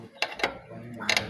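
A hand spanner working on a bolt in a workshop, giving a few sharp metallic ratcheting clicks in two brief bursts with a quiet gap between, close and fairly faint, with no talk.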